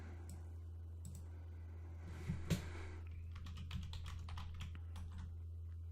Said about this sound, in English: As soon as I type my password correctly.